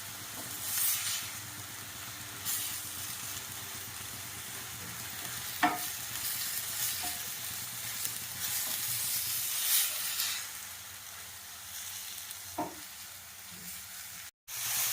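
Moringa leaves sautéing in a pan give a soft, steady sizzle, with a few sharp clinks of a spoon against the metal now and then, close and alone.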